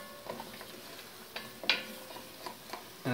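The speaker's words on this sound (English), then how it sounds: "I'm going to stir it down again." A roast with carrots is stirred in a Dutch oven: a few scattered scrapes and clinks of a utensil against the pot over a faint low sizzle, close and quiet, ending in a sharper clatter.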